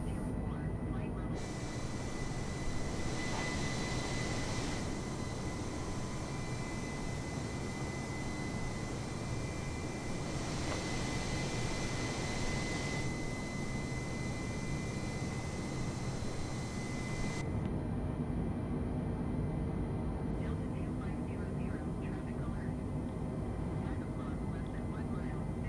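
Steady, loud jet engine roar from an Airbus A320neo climbing at 320 knots in Microsoft Flight Simulator on Xbox Series S, a continuous broadband rumble and hiss with no speech.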